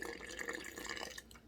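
Water trickles and splashes as it is poured into a sourdough starter on a kitchen scale, a short continuous pour heard fairly close and quiet, tapering off near the end.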